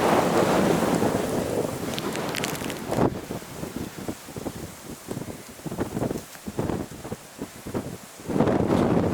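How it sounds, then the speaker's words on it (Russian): Loud gusts of wind buffet the microphone in heavy surges and lulls, with rain and rumbling noise mixed in, at a lakeside fishing spot in Yakutia; no speech. "Очень сильный ветер поднялся."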